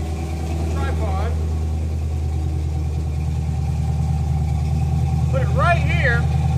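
A car engine idles steadily up close, a constant low rumble running alone throughout, with faint voice-like tones drifting in briefly near the start and end.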